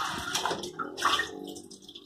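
Bath water sloshing and splashing in a tub with a small child, soft irregular splashes close by with a brief watery swirl midway, no talk over it.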